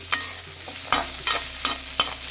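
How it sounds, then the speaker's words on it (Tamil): Amla (Indian gooseberries) cooking in a pan over a low-medium flame for thuvaiyal, with a steady soft sizzle broken by four sharp scraping stirs of a spoon against the pan, close and alone. "இந்த லோ டு மீடியம் ஃப்ளேம்லேயே முதல்ல நெல்லிக்காயை நல்லா வேக வை"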